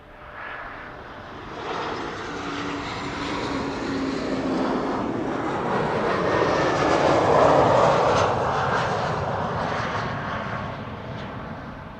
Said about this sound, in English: KLM flight 1772 arriving from Berlin, Embraer 190